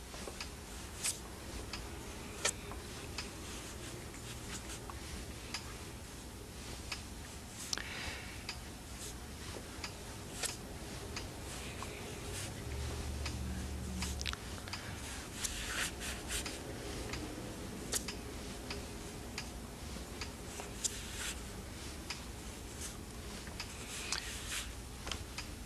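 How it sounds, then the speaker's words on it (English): Metal armor of an armored fiber optic cable being cut through by hand, a faint steady scraping and rasping with scattered small ticks and clicks, close and quiet over a long stretch without talk. "So we'll cut through the armor here."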